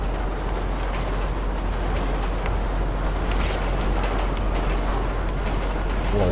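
A train in GTA 5 roars past close by in a steady, loud, dense rush of noise that holds throughout with no speech.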